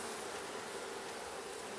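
Honey bees buzz around hive frames pulled from a new split colony, a continuous, even, dense hum that is fairly quiet and close, with no voices.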